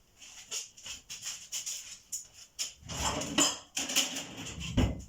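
Washing up after a meal, with dishes, pots and cutlery clattering and clinking in uneven bursts close by, growing busier and louder toward the end.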